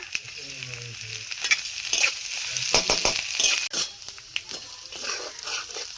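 Chopped ginger and garlic frying in oil with bay leaf and cumin, a steady close sizzle with intermittent stirring scrapes and a few utensil knocks against the pan.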